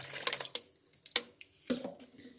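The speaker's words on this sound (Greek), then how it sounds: "θα βάλουμε στο μπολ νερό" Lukewarm water for loukoumades dough pours and splashes into a bowl in a few short, quiet bursts with small drips between them.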